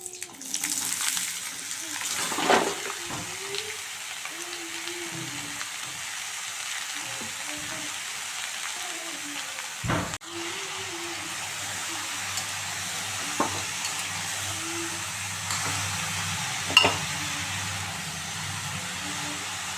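Tender bottle gourd, cut in pieces and drained of water, hits hot oil seasoned with bay leaf and black cumin, giving a loud, steady sizzle for the whole stretch, stirred now and then, while someone talks over it.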